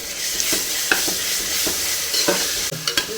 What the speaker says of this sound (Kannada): ಶುಂಠಿ ಬೆಳ್ಳುಳ್ಳಿ ಪೇಸ್ಟ್ ಏನು ಮಾಡ್ಕೊಂಡಿದ್ವಿ ಅದನ್ನು ಆಯಿಲಲ್ಲಿ ಹಾಕ್ಕೋಬೇಕು